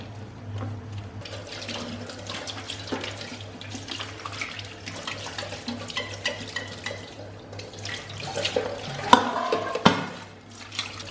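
Running tap water pours steadily into a kitchen sink while dishes are washed, with occasional clinks and knocks of crockery, louder toward the end, and no talking.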